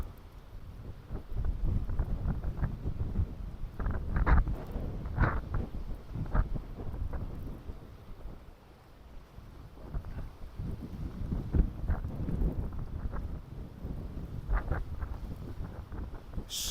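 Strong wind buffets a fishing boat out on the River Mersey during rough cod fishing, a steady low roar with gusty surges and spray across the whole stretch, no voices.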